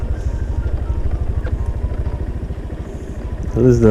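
A scooter engine runs at a steady idle-like throb with regular low pulses. It swells louder near the end as the throttle is opened.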